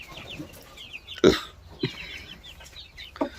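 Several short, sharp clucks from local country chickens close by, spaced irregularly over a soft background of farmyard chatter.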